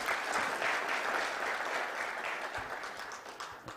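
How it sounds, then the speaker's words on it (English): Audience applause for a minister at a regional forum on AI, a dense, steady wash of many hands clapping that carries on evenly and fades slightly toward the end, with no voices over it. "Let us give the Honorable Minister one more round of applause,"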